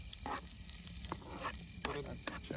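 Onion and garlic frying in a pan at an outdoor riverside night cookout, a steady broadband sizzle with a few sharper crackles and stirring scrapes, moderately close, with faint voices in the background.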